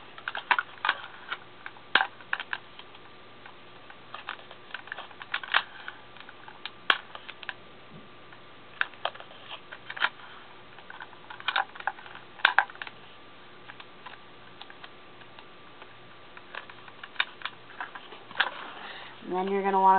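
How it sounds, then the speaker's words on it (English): Sticky tape pulled and pressed around a rolled paper tube while making a paper gun, giving short crackling and tearing bursts through the whole stretch over a steady background hum. "And you're going to tape it."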